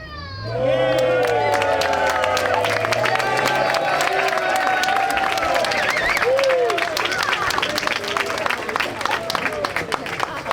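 Applause and cheering fill a La Verne city council meeting chamber after a countdown, a dense steady wash of clapping with voices and whistles over it throughout.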